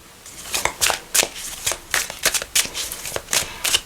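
An oracle card deck being shuffled by hand, with repeated riffling bursts of card flutter at a steady, quick rhythm, close and fairly loud, with no talking.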